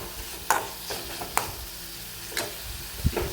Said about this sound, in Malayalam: നന്നായിട്ട് എനിക്ക് ഇളക്കി കൊടുക്കാം